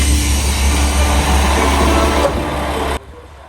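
A train pulling into Takaoka station, a steady loud rumble of wheels and motor close by, easing slightly before cutting off near the end.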